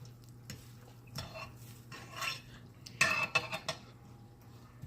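Baked chicken and sweet potato yams being turned over in a pan, with soft scraping and clinking of a utensil against the pan over a low background hum, and a few brighter clatters near the end.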